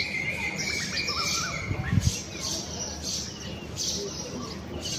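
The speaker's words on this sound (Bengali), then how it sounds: "অনেক ধরনের পাখির ডাক শুনবা পাবেন।" Birds of several kinds call in a leafy Dhaka neighbourhood that feels like a village, with cuckoos among them. Bright chirps and short twittering phrases overlap at moderate distance over a steady background hum.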